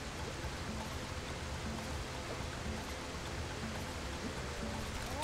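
A steady rushing waterfall in a climbing video game, a continuous broadband wash of falling water at even loudness throughout, no talk.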